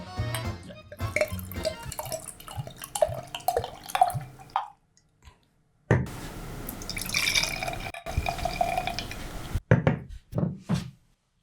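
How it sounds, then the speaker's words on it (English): Double Imperial Stout beer being poured into glasses, with liquid splashing and dripping in short bursts broken by brief pauses, close by and moderately loud. "Yeah, well, that was bad pouring, man."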